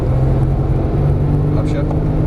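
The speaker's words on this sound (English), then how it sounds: "tight, turn, and accelerate out. Upshift." A Porsche Turbo S engine drones loud and close under hard acceleration, its steady low roar holding through a brief gear change.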